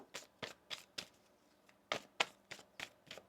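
Tarot cards being shuffled by hand, a quiet series of soft riffling flicks in an uneven rhythm, about a dozen bursts close up with no talking.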